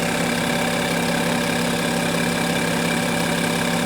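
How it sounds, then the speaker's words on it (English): A car engine runs at idle with the level screw open for an automatic transmission oil check at about 40 degrees, a steady, close, even hum with a faint rhythmic knock, alone and unbroken. "The engine has to run"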